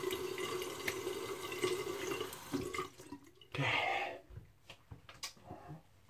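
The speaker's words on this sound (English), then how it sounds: "I'm going to rinse the soap off my face." Water splashes at a sink as soap is rinsed off a freshly shaved face: running water and cupped-hand splashing up close, then a pause and scattered drips.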